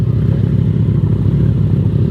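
A motorcycle engine running close and loud, a dense, rough low rumble holding steady throughout the short stretch with no clear rise in pitch and no voices.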